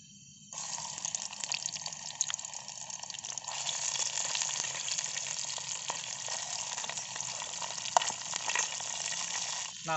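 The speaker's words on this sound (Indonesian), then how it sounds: "ini kan sekarang saya lagi mau goreng peda ya guys" Peda, a salted fish, frying in a pan at a forest campsite, a steady hissing sizzle that starts abruptly and carries on loud and close throughout, with a few faint crackles and no voices.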